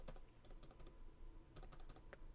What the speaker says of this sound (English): let me type that in right there